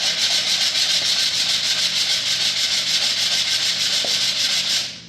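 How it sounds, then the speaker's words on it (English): The edge of a laminate floor plank is sanded with 100 grit sandpaper, a loud, steady, rasping rub in continuous strokes that tapers off at the very end. "So you can use a knife and scrape it, but I prefer to use sandpaper."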